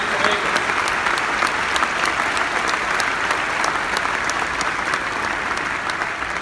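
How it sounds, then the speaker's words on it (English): Loud, steady applause from a large conference crowd at the Black Hat 2017 keynote in Las Vegas, a thick uninterrupted roar of clapping with occasional sharper individual claps standing out. "Let's give them a round of applause for the hard work for making it"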